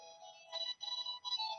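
A phone rings during a university lecture with a steady, electronic, tonal ringtone that pulses in short repeating bursts. It sounds clear and fairly close, with no talking over it.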